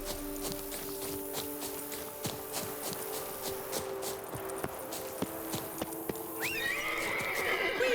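Roach, a horse in the video game The Witcher 3, gives a clear neigh among light clip-clopping hoof steps, with a quieter game ambience behind it and no talking.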